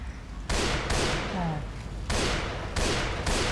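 Heavy rifle shots in the zombie shooter Left 4 Dead 2, including sniper fire, crack out in repeated loud bursts at close range, with a voice talking in between.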